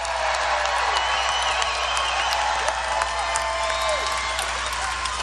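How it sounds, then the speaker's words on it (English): Continuous crowd applause at a Donald Trump campaign rally in Melbourne, Florida, in 2016, a thick roar of clapping with faint cheers and whistles rising above it, steady throughout. "Give them a big round of applause."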